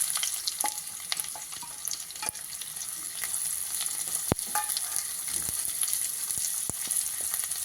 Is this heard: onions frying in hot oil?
yes